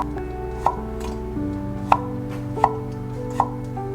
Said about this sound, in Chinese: 竹笋切片。